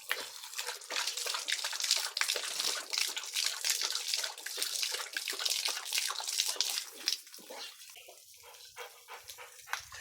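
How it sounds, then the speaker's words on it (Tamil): A dog lapping from running water on a tea estate, with steady splashing and trickling close by and quick wet laps that fade toward the end. "ஷேனுக்கு இப்படி தண்ணி குடிக்கிறது தான் ரொம்ப பிடிக்கும்"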